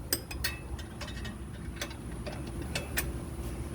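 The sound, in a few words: wrench tightening skid plate bolt on Massey tractor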